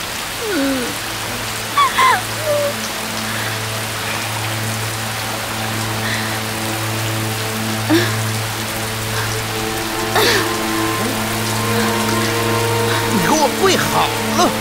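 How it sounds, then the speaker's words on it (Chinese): Heavy rain falls steadily on hard surfaces with a constant patter under a low hum, while people talk intermittently over the downpour. "这雨可是越下越大了"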